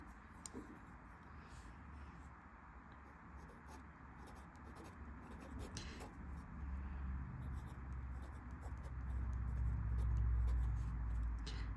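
A Sailor fountain pen with a Fude nib scratches and rubs across paper while swatching ink, a soft continuous scritching that stays close under a steady background hiss and grows slightly louder toward the end.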